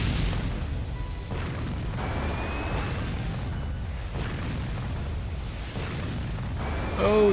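Naval gunfire and shell explosions in the Warship Gunner 2 video game sound as repeated muffled booms over a continuous rumbling game soundscape, moderately faint.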